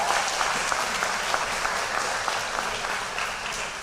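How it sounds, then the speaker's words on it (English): A banquet crowd at a school athletic awards event applauds steadily, dense and even clapping that holds at full strength throughout. "Another round of applause for her,"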